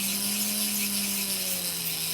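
Electric nail drill slowly filing down two coats of glow-in-the-dark neon gel polish, a steady, close whine with a sustained low hum and faint high grinding, unbroken and without speech.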